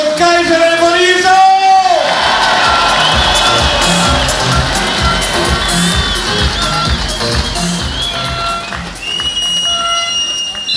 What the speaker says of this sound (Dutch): En nu mogen wij klappen, stappen, gillen voor Keizer en van Ierzo!